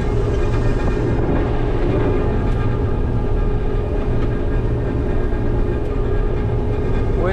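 A Claas Mega 350 combine harvester with a 4.5-metre header harvests wheat, its engine and threshing machinery producing a loud, steady, close rumble and whine throughout.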